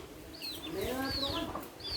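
A chicken clucking close by among feeding horses, several short throaty notes in quick succession over faint background noise.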